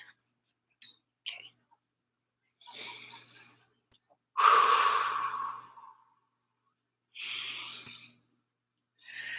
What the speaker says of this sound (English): I'm going to take a few deep breaths off screen and then come back.